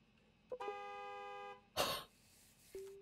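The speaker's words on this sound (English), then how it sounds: "If you honk at me one more time" A car horn honks in a gas station video game, one long sustained tone lasting about a second, followed by a burst of noisy rustling and a short final toot at the end.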